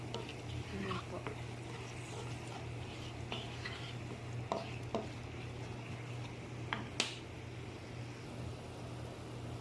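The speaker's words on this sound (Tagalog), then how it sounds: "Hintayin din po natin na magbubbles. Stir po natin muna." A salmon sauce with lemon gently bubbling in a pan while it is stirred, with soft scraping and occasional clinks over a steady low hum, and a voice talking quietly under it.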